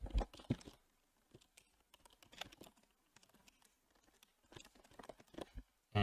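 Typing on a computer keyboard while setting up Unity UI text, quick bursts of close, light key clicks separated by short pauses, quiet overall and with no speech.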